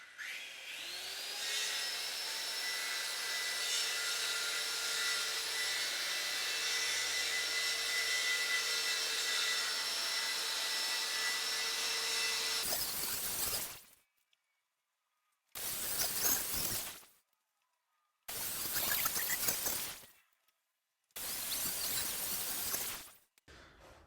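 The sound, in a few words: cutting slots into wooden frame pieces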